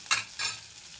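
Rava upma with turmeric and salt being stirred in a pan, two quick scraping strokes close up over a faint sizzle.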